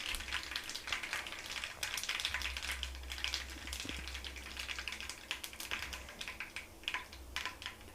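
Mustard seeds crackle and pop in hot oil for a cooking tempering, a dense run of sharp ticks and spits over a low sizzle, close and steady with no voices.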